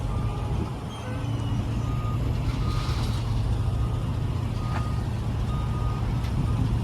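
A truck's reversing alarm beeps repeatedly over a loud, steady diesel engine rumble while landscape material is loaded into a truck trailer at a supply yard, with no talking.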